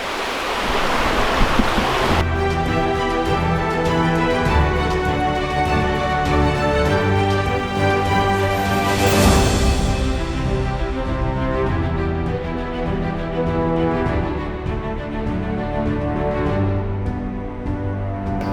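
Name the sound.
river flowing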